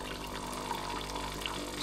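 A repaired Philips espresso machine pumps hot water with a steady droning hum and faint watery trickle, constant and close for a brief stretch.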